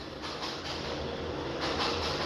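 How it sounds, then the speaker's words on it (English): A passing train rumbles steadily outdoors in Miami, a broad continuous roar with faint rhythmic wheel pulses, fairly quiet and alone. "Oh, it's a train."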